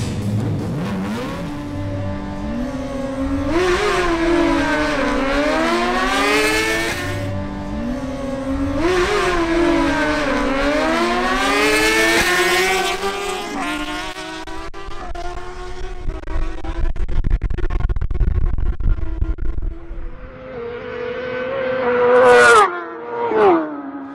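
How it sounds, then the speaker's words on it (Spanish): A Honda CBR1000RR motorcycle at a drag race revs hard and climbs through several gears in rising, wailing sweeps, loud at first and then fading into the distance, with a second engine rising near the end. "El turno ahora es para Adrián Murcia en su Honda CBR1000RR"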